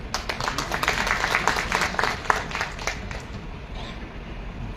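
Audience applause welcoming a speaker at a gathering, a steady wash of clapping from many hands that fades out toward the end.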